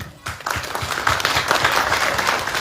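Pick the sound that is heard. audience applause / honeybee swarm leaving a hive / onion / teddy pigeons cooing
audience applause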